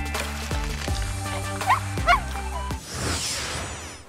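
A happy puppy yips and barks in short bursts at close range, with a couple of higher whimpering yelps in the middle, over a steady background hum.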